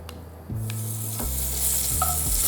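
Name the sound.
ginger sautéing in oil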